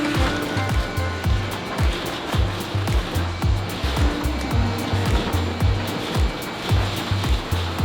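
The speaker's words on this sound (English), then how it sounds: "start vacuuming them up" A shop vacuum roars steadily while sucking raccoon droppings out of an abandoned Cadillac Coupe DeVille, a loud continuous whooshing drone with rhythmic pulsing as the nozzle moves around.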